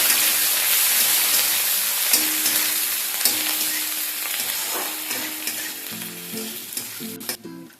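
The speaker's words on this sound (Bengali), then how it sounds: "হালকা একটু ফ্রাই করে নেব পেঁয়াজটাকে" Onions fry in a pan with a continuous close sizzle and scraping stir strokes, easing slightly toward the end; no one speaks.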